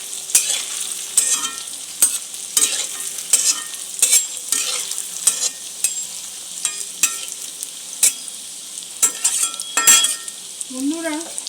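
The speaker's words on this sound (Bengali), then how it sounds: "এইভাবে গ্যাসের ফ্লেমটা লো টু মিডিয়াম রেখে এইভাবে বড়াগুলো ভেজে নিতে হবে।" Boras frying in oil over a low to medium gas flame, with a constant sizzle and repeated clinking strokes of a spatula stirring against the pan, close and fairly loud.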